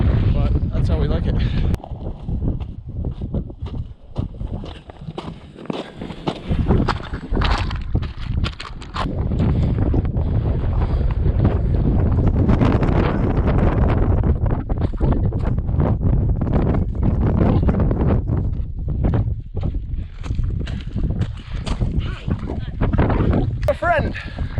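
Strong wind on Quandary Peak, a 14,265-foot mountain, buffeting the microphone in heavy continuous roaring gusts, with a speaking voice intermittently over it.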